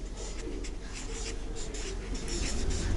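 Pencil or pen writing a word on paper during an English grammar lesson, a steady scratchy scribbling with brief strokes against a constant low background hum, close by and moderately quiet.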